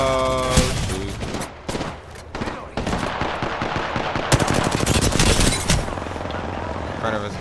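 Rapid automatic gunfire and overlapping bursts of shots in an Apex Legends match, loud and dense throughout, with a voice briefly talking over the chaotic firefight.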